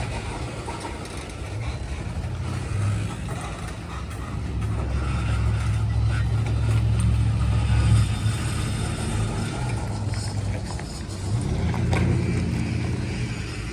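Cars idling and pulling around at a busy railroad crossing at night, where a heavy coal train blocks the road: a steady low engine rumble that swells mid-clip and again near the end, with no talk.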